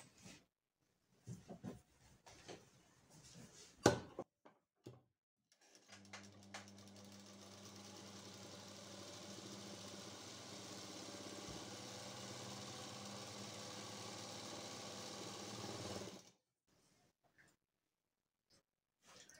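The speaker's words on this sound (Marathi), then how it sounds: "दाबटीप टाकून घ्यायची आहे." A sewing machine topstitching a princess-cut blouse runs continuously for about ten seconds after a few soft handling knocks, humming steadily up close before stopping abruptly.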